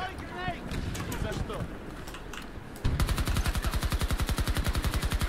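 Rapid SMG fire in a multiplayer shooter game, a steady run of evenly spaced loud shots in the second half after busier game noise and some voice.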